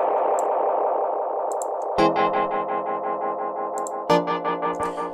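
Outer Space vintage tape echo and reverb plugin processing a tone: a warbling sustained note, then two sharp plucked chords that ring out with repeating, smeared echo tails.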